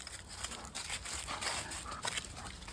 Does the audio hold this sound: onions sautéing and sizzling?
no